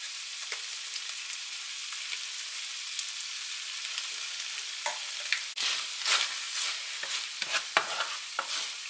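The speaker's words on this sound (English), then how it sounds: "Get all those spices mixed in with everything else." Food in a pan with chili powder and cumin added sizzles softly and steadily while a spoon stirs and scrapes, the scraping growing busier and louder in the second half, with no one speaking.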